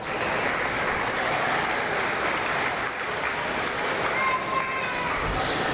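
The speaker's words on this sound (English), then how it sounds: "Let's give these intermediate showmen a round of applause." Spectators at a dairy cattle show applaud intermediate showmen, a steady, diffuse clapping wash heard somewhat distantly in a large hall, with a faint voice underneath.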